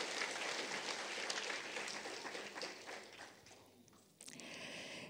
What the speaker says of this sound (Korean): 여러분 힘찬 박수로 인사를 나누시기 바랍니다